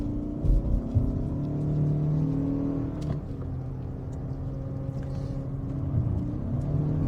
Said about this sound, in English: It sounds like the engine's going to brake, but we know it's a Toyota and it's not.